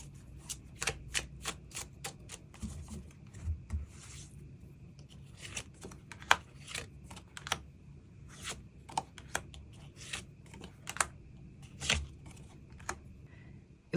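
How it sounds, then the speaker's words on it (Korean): Tarot cards shuffled and drawn at a table, a run of sharp crisp flicks and snaps with quieter gaps between, close and fairly soft, no talking. "추가 카드 뽑아보도록 하겠습니다"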